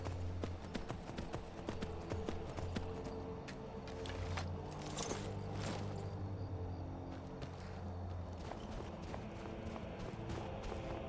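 Horse hooves clip-clop steadily in Skyrim as a mountain-climbing unicorn mount trots along, a continuous rhythmic clatter of hoofbeats over low game ambience, with no talk.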